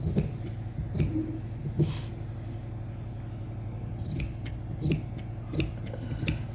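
Scissors cut through excess pashmina suit fabric with a series of irregular close snips and crisp blade clicks spread over several seconds, set against a low steady background hum.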